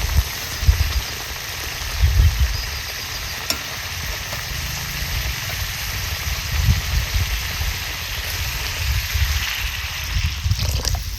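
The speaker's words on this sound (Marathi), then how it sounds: "आता जेवढा आपल्याला पाताळ पाहिजे त्यानुसार पाणी घालते" Water pours steadily into a simmering pot of fried fish curry, a continuous wet rushing with low bubbling and occasional soft clinks, fairly close.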